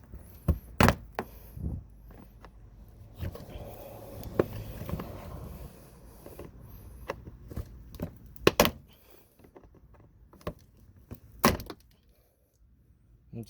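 Sharp clicks, snaps and thunks from plastic tabs being pried out of a Subaru Legacy or Outback bumper, scattered irregularly across the stretch with quiet pauses between, close by and fairly crisp.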